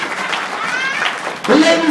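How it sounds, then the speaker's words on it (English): Applause from a Stampede Wrestling crowd, a noisy wash of clapping under a voice, swelling louder toward the end. "Give her a big round of applause"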